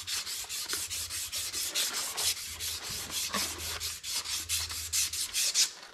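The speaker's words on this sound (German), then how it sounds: "Und dafür eben dieses Schleifband" A sanding belt works over a bearing journal on a Dücker flail mulcher being repaired, giving a steady, close rasping scrape in quick regular back-and-forth strokes, loud and continuous with no talk.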